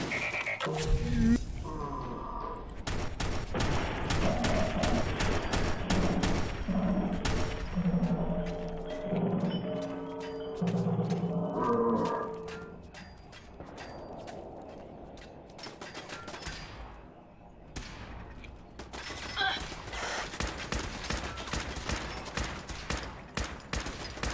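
Sustained gunfire in the video game Fallout 4, dense bursts of automatic weapon shots and rapid single reports rattling almost continuously, loud and close, with brief lulls before the shooting resumes.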